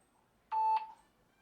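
A Syma X400 mini drone's remote controller sounds a single short electronic beep, clear and close, in an otherwise quiet moment.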